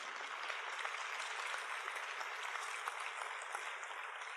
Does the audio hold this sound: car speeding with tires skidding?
no